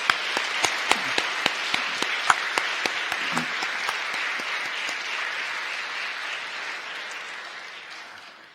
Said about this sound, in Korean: 우리 성가대원에게 감사의 박수 한번 보내드리도록 하겠습니다